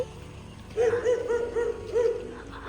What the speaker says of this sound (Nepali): कुकुरले केही गर्दैन।